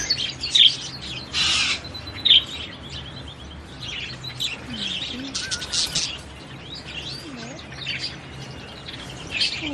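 Free-living wild budgerigars chirp and squawk in a busy flock, with bright overlapping calls, a few louder close bursts near the start and steady chatter throughout.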